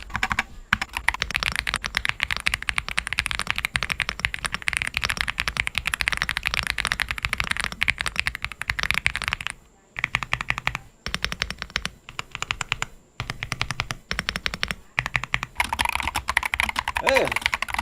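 Fast, continuous typing on a gasket-mount mechanical keyboard gives dense, close, rattling key clacks that go on steadily with only a couple of short pauses.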